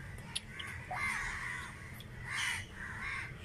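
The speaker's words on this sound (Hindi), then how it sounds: "कौवे बहुत चिल्ला रहे हैं" Crows caw repeatedly overhead in an outdoor spot, several harsh calls coming in bursts at moderate distance over faint background noise, with no speech.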